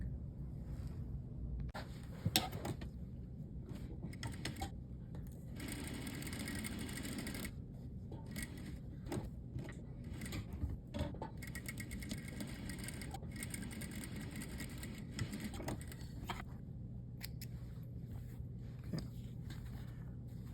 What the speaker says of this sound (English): go to the machine rather, and stitch these all together